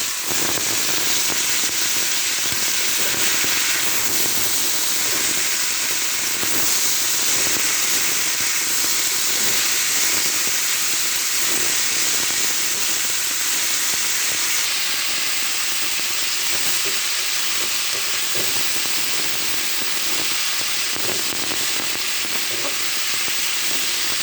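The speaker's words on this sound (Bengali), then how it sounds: "তেল গরম হয়ে গেছে, এবার পেঁয়াজ কুচি, পেঁয়াজ দিয়ে আলু কুচিটা এতে করে দিয়ে দেবো" Chopped onion and potato frying in hot oil for a Bengali aloo bhaji, giving a loud, steady, bright sizzle and hiss that holds unbroken throughout with no talking.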